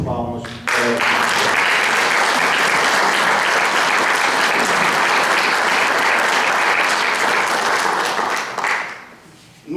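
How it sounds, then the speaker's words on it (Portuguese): Audience applause fills a book launch event, a sustained dense burst of clapping starting right after a brief voice and fading near the end. "Eu peço as palmas para..."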